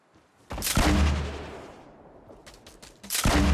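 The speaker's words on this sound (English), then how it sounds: "I'm just trying to shoot bushes, see if he's in one" Gunfire in the Fortnite battle royale game, a loud burst of shots that fades out, then a few quick cracks and another loud burst.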